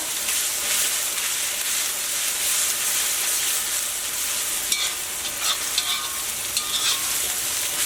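Onions fry and sizzle in a pan for a Kerala chicken roast, with a steady hiss throughout and a few brief scraping stirs near the end, close and fairly loud with no talk.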